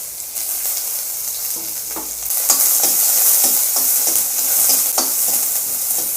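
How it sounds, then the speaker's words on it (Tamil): Sliced onions fry in a pan of popped mustard seeds, giving a loud, continuous sizzle with repeated scraping and clacking as they are stirred. "பாருங்கள், நல்லா வெங்காயம் வதங்கிச்சு."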